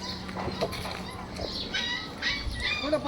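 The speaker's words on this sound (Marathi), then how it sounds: "कुठं कुत्र्याचं पिल्लूचा आवाज येतोय" Puppies whimpering and yipping in short, high-pitched cries from inside a drain, scattered over several seconds with outdoor background noise and some talk.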